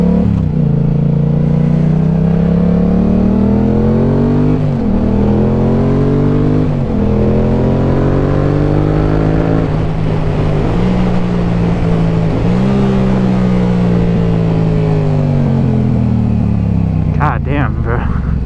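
A Yamaha R7 motorcycle engine heard from the rider's position while riding, loud and continuous, rising in pitch through the revs and falling back with each shift, with wind roar and a person talking over it.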